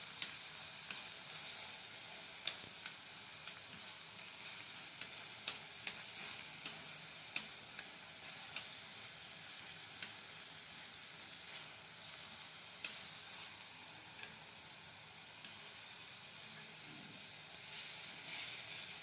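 Ginger garlic paste frying in a hot pan while being stirred, giving a steady, close sizzle with faint scraping, continuous throughout and with no voices.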